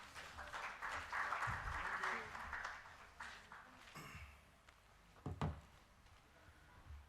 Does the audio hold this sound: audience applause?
yes